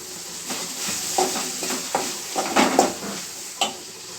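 Masala for chicken biryani being stirred in a pan, a steady close sizzle with repeated scraping strokes of a spoon against the metal surface.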